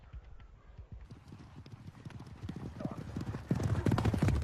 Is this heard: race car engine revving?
no